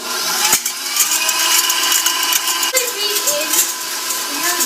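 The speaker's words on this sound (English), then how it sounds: "put it in an electric mixer on high for 5 minutes" Electric mixer whirring on high while beating madeleine batter in a bowl, a steady, loud motor drone with a couple of sharp knocks, continuous throughout.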